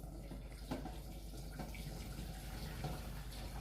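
Woodpigeon soup stock being poured through a sieve, a soft continuous trickling and splashing of liquid, faint and steady, with a few small clinks.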